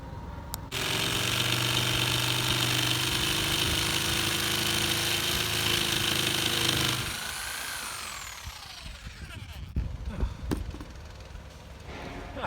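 A jigsaw cuts a hole through a roof deck for a vent with a loud, close, continuous buzzing rasp for about six seconds. It then stops, leaving softer knocks and handling noise.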